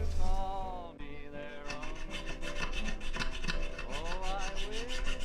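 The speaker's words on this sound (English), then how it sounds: "I'm going to go in with a few various little files, and I'm going to try and get these smoothed down" Rapid, repeated rasping strokes of small hand files smoothing rough edges, scraping across a hard edge, steady rhythmic back-and-forth close up, with a musical tone underneath.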